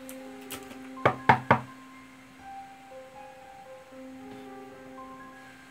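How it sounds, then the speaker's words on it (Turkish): Three sharp knocks on a door land close together near the start, loud and close, over a quiet background of steady electronic tones from a Minecraft game, with no talking. "Arkadaşlar kapı çaldı."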